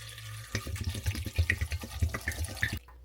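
Water from a tap pours into a crock pot over vegetable scraps, a close, bubbling, splashing stream that starts abruptly, runs for about two seconds and then cuts off.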